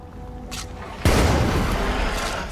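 A homemade soda can bomb detonates in a tight corridor in State of Decay 2, a sudden loud, close boom that rolls into a long, decaying rumble after a quiet lead-in with faint clicks.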